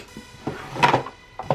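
A makeup drawer holding lipsticks slides open in a quiet room, giving a few soft wooden knocks and rattles with a short scrape, close by and fairly faint, with no talking.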